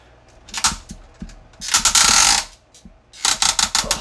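Close, crisp ratcheting clicks from the jointed arms of a Transformers War for Cybertron Kingdom Autobot Ark figure, short bursts of ratchet clicks separated by brief pauses, no speech.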